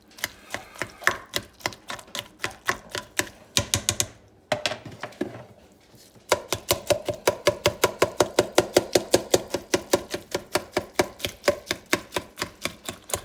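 Rapid, regular knife chops strike a cutting board, cutting cooked meat and green peppers, with a short pause partway through before the steady chopping resumes, close and crisp.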